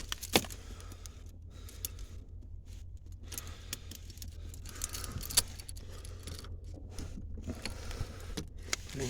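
A car key ring jangles as a key is inserted into the ignition of a vehicle during a diagnostic scan-tool check, producing close metallic clinks and rattles in scattered bursts over a low steady hum.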